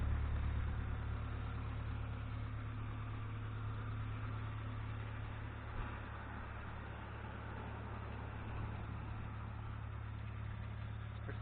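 Nissan S13 240SX coupe engine idling steadily with a low rumbling drone and a faint rattle, close and continuous with no talk.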